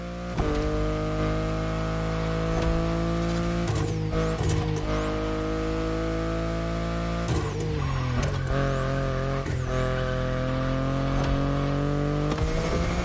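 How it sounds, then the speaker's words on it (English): BMW i8 in The Crew Motorfest racing game, its engine note droning steadily and loud throughout, rising and shifting pitch through several revs and gear changes with brief sweeping whooshes between, no voices. "The BMW i8 is a car that stands out from the crowd."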